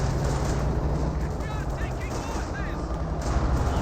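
In a video game, a KV-8 tank fires on infantry, a dense, loud rattle of gunfire and bursts that carries on without pause over a constant battle rumble.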